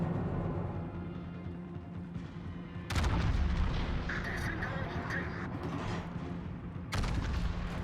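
Naval gunfire from battleships in World of Warships, including the Yamato, with deep booming salvos and rolling rumble in a dense, continuous battle mix, sharp blasts punching in twice, and talk now and then.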